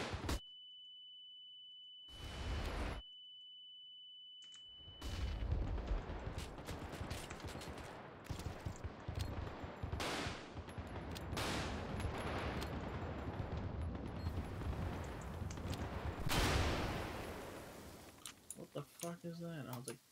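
Machine gun fire in a Garry's Mod match comes in short isolated bursts at first, then dense, sustained rattling volleys that run on for most of the stretch, with voices talking over the action.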